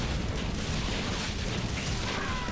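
A bomb blast in Metal Slug Awakening, a heavy, rumbling boom that fills the whole span and stays dense and loud with no clear pause.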